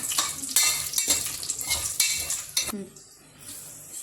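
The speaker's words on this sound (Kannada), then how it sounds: "ಇದು ನೋಡಿ ಬಿರಿಯಾನಿ ಮಸಾಲ ಮಿಕ್ಸ್ ಹಾಕ್ಕೊಳ್ಳಿ. ಹಾಕ್ಕೊಂಡು ಸ್ವಲ್ಪ ಫ್ರೈ ಮಾಡ್ಕೊಳ್ಳಿ." Biryani masala mix frying in a pan with mushroom biryani, metal spatula scraping and clinking in quick strokes over a steady sizzle that thins out toward the end.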